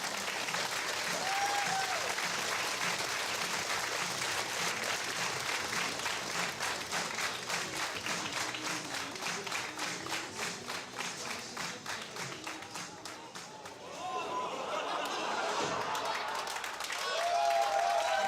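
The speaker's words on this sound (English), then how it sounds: "we get applause for just opening the curtains" A theatre audience at a 2005 stage show applauds as the curtains open, a long, full and sustained roar of clapping that dips slightly before swelling again, with a few faint voices near the end.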